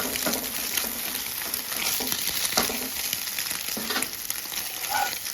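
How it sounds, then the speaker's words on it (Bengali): An egg frying in a pan for Maggi noodles is broken up with a spoon, giving a soft continuous sizzle punctuated by scraping and tapping strokes against the pan, close up, with no talking. "এখন ডিমটা ভালো করে ভাজা হয়ে গেছে। এবার এটাকে ভেঙে দেবো।"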